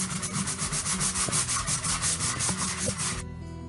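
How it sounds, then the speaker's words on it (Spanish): Sandpaper rubbed back and forth over a small wooden apple-shaped board, a close rhythmic scratchy rasp repeating about twice per second before stopping abruptly near the end. "pasas bien tu lija y lijas bien tanto arriba como los bordes. Vamos a lijar, lijamos para quitar todo esto."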